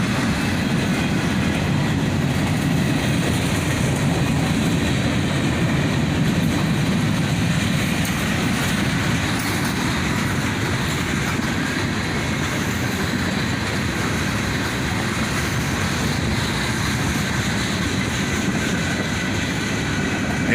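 CSX manifest freight train rolling past on a sunny morning with boxcars and new tank cars, a steady, loud rumble of wheels on rail with faint clickety-clack that stays constant throughout, no voices.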